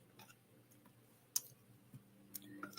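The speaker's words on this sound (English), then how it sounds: "Okay, get my little dice here." Small dice being handled, giving a few faint, sparse clicks and ticks spread over a quiet background, with one sharper rattle near the middle.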